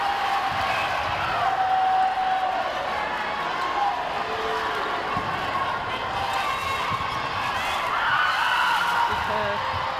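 Arena crowd at a Cook Islands versus Botswana netball youth world cup match, a continuous steady roar of cheering and chatter under a commentator's voice, with faint ball and footwork sounds.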